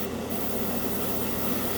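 Airbrush spraying cheap craft store acrylic paint onto a scale model, a steady close hiss of atomized paint running without pause and with no talking.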